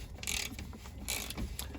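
A ratchet tightening a 16mm nut on the air tank of a Mercedes-Benz Vario truck, with two quick bursts of rapid clicking close by.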